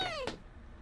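Maria, a cartoon character who speaks only in cat noises, lets out one short meow-like cry that slides down in pitch and fades quickly; a voice imitates the cat.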